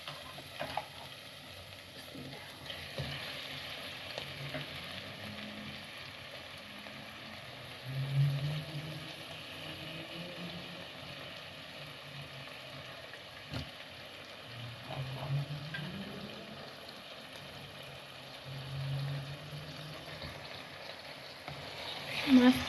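Fish fries quietly in spiced oil cooked down with orange peel, a soft steady sizzle with occasional scraping stirs and brief louder bursts, no talking over it.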